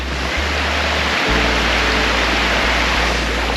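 Water tumbling down a waterfall on Australia's east coast, a steady, dense broadband rush heard close and unbroken, with a low rumble underneath and no voices.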